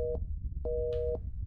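Dead-line telephone tone in a haunted-house horror video game, a steady two-pitch electronic hum sounding in two separate beeps over a low rumbling background.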